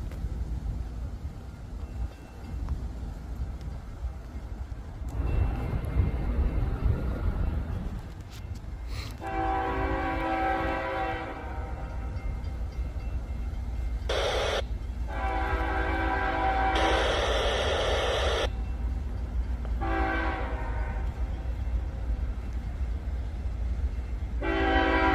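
An Iowa Interstate train rumbles past with a low steady roar, and its horn blasts several times in long and short bursts.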